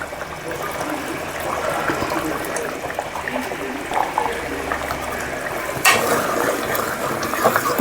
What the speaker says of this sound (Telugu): అందుకని చింతపండు రసం వేస్తున్నాను